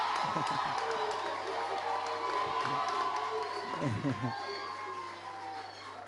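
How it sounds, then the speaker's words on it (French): A crowd at a televised gospel music competition cheers and whoops for the musicians, a loud, lively roar that swells and fades over several seconds, with a voice speaking over it. "Je voudrais qu'on applaudisse très fort pour eux. On les applaudit s'il vous plaît."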